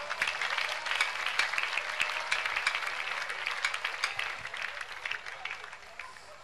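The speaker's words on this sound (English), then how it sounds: "Clap for Jesus." Congregation clapping in a church service, a steady burst of many hands that gradually fades toward the end, heard from some distance.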